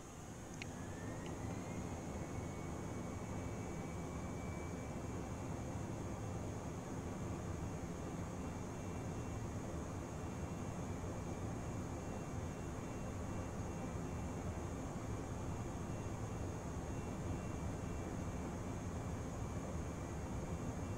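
Airbus A320 rolling down the runway from the cabin, a steady broad engine roar and rumble holding constant throughout, with a rising whine settling into a sustained tone.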